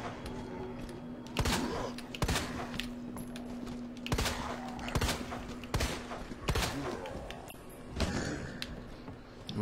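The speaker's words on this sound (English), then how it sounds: "He heard those gunshots for sure." Sharp gunshots in the video game Resident Evil 2 crack out at irregular intervals, roughly seven or eight sudden bangs over a low background hum.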